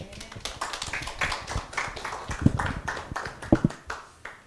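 Scattered, uneven hand clapping comes from an audience at a church conference, with quick irregular claps of moderate loudness in a room and no voices over it.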